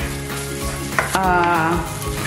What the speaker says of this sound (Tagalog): yung parang lutuin natin ng mabuti yung ating tomato paste